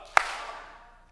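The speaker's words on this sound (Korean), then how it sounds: "박수 한번 하면서 사랑." A single sharp, unison clap from a church congregation during a Sunday sermon, followed by a short reverberant decay in the hall.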